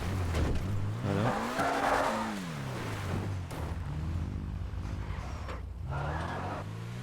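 A video-game car engine drones steadily, its pitch climbing and falling as it revs through gear changes, loud and continuous with no voices.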